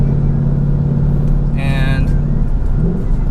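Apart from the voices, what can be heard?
2019 Ford Mustang GT 5.0 Coyote V8 engine driving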